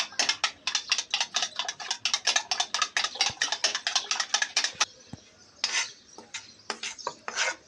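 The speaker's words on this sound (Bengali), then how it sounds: "ডিমের সাথে এখন সামান্য একটু লবণ দিয়ে ডিমগুলোকে ফেটে নেব" Four eggs with a little salt are whisked by hand in a bowl, producing a rapid, steady run of close clinking taps that pauses briefly and then resumes in a few short bursts.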